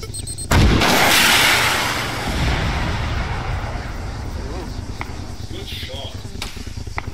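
Gunfire in the ARMA 3 military game: a loud close blast opens, followed by a dense rumbling wash of distant shots and impacts that tails off, with a few sharp later cracks and voices talking over it.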